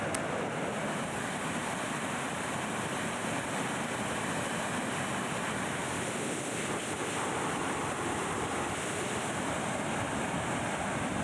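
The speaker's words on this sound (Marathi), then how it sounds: "कास बामणोली परिसरात पडत असलेल्या संततधार पावसामुळे या भागातले ओढे नाले दुथडी भरून वाहत आहेत" Streams and water rush over the Kas lake spillway in the Kas–Bamnoli area, swollen by continuous monsoon rain; a steady, loud, unbroken roar of flowing water fills the whole stretch.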